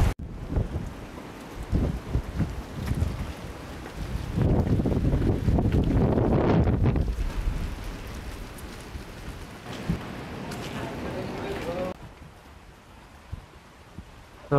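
Strong wind and rain batter an exposed hilltop by the Budharaja temple in Sambalpur, a loud, roaring wash of gusts and rainfall that surges louder in the middle and then eases off toward the end.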